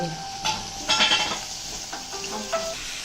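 Onion, diced carrot and beans sautéing in a pan for fried rice, a light sizzle under clinking metal spatula strikes and scrapes against the pan, irregular and close.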